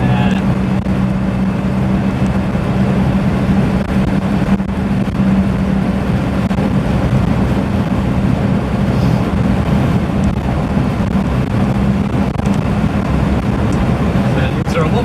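A 1.3-litre 1275cc Morris Marina with a worn-out shock absorber drives over a rough, broken road surface, producing a loud, unbroken rumble of engine and road noise that stays steady throughout.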